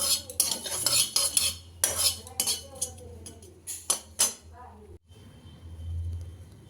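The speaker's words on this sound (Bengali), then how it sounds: "জিরেটা একটু শুকনো কড়াইতে ভেজে নিচ্ছি" Cumin seeds dry-roasting in a dry wok, stirred with a metal utensil, giving repeated scraping clinks and rattles in irregular bursts, fairly close, with a low steady hum underneath and a brief pause near the end.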